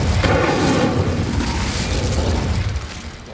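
A magical Incendio fire spell from Hogwarts Legacy, heard as a steady, dense whooshing roar of flame that holds for about three seconds before easing off slightly at the end, with no voices.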